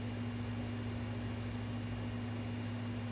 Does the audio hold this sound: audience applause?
no